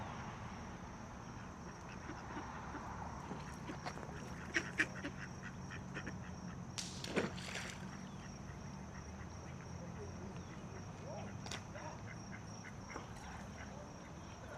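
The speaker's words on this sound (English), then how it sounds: "I would stay here and make a video of some of these ducks." Ducks quack intermittently at a canal park on the Lehigh Canal, a few sharper calls standing out over a steady outdoor background, fairly distant and without close speech.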